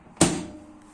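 A single sharp click-thud as a microwave door pops open in a rented flat in Krasnodar, followed by a brief fading resonance.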